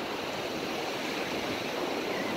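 Big ocean waves washing onto a seashore, a steady, full roar of surf that fills the whole stretch without a break, close and fairly loud, with no talking over it.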